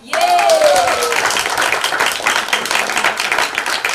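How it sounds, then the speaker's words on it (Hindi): A crowd breaks into loud, sustained applause, many hands clapping steadily at a web series launch event. A voice is briefly heard at the start. "एंड इन सब के लिए जोरदार तालियां।"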